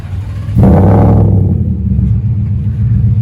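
A supercharged Ford F150 truck with a custom exhaust cranks and catches, and its engine settles into a loud, deep, steady idle rumble close by.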